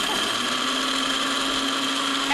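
A blender runs in a restaurant, a loud, continuous whirring drone that stays steady throughout.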